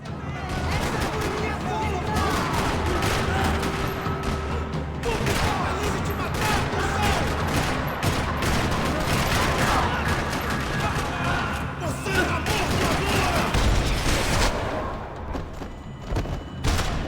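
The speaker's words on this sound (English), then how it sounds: "Another parking lot rattling with gunfire." Dense, continuous video game gunfire in a parking lot in Max Payne 3, rattling throughout with booming impacts and bursts, loud and chaotic, with a murmur of voices faintly mixed beneath.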